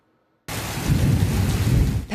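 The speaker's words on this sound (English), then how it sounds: "Heavy rain and strong winds pounding the Texas Panhandle" Heavy rain and strong wind from a thunderstorm in the Texas Panhandle, a sudden loud, steady broadband roar of downpour after a moment of silence, ending in a brief rising tone.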